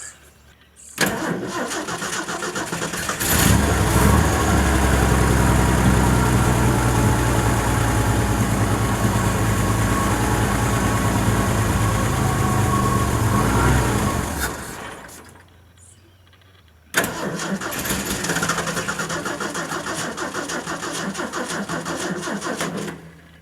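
A Ford F100 short bed truck engine, fuel poured into the carburetor, cranks for a moment, then catches and runs loudly and steadily for about ten seconds, cuts off, and restarts into a steady idle.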